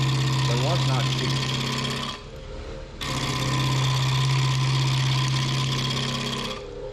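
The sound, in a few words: wood lathe gouge chattering while turning maple bowl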